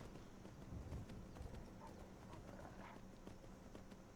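Horse hooves clip-clop in a steady walking rhythm in Skyrim Special Edition, the repeated hoof falls moderately close over a constant low ambient rumble, with no talk.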